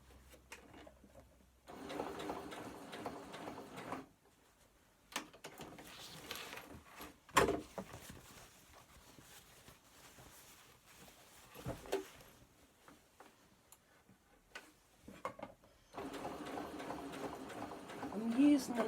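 A Butterick EB6100 sewing machine stitches fabric for a garden cushion, with two brief runs of steady mechanical whirring separated by quieter stretches where a person talks.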